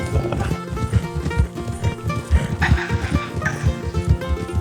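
Hooves of a horse in Red Dead Online clip-clop in a quick, busy rhythm, close and fairly loud, mixed with other game sounds and a voice.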